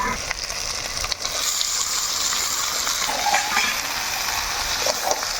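Mutton scraps sizzle and hiss in a hot pan before ash gourd goes in, giving a steady, bright frying crackle with a few faint stirring knocks.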